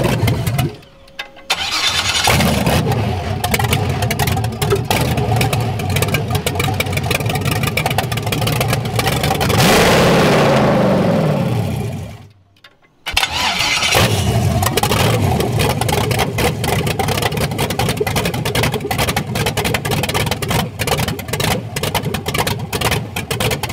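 A V8-swapped BMW E36 cranks and starts, idles roughly, then revs up and cuts out briefly before catching again and settling into a loud, lumpy idle close by.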